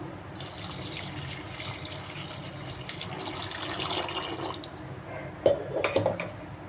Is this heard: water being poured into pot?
yes